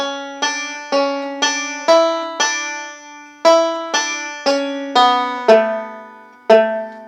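A banjo plays a short melodic phrase from the fiddle tune "Cuckoo's Nest", bright plucked notes in a moderate, even rhythm, each note ringing and decaying, clear and close.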